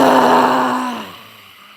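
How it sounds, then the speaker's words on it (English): A forceful breath pushed out from the throat as a rough, growling exhale, loud and close, trailing off into a fading breathy rasp. "Push it from your throat and breathe out and make a noise."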